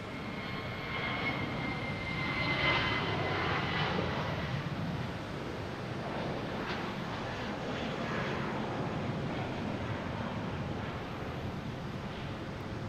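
A JetBlue Airbus A320 jet airliner at Boston Logan airport gives a steady, loud engine roar that swells slightly early on and holds throughout, with wind noise and no talking.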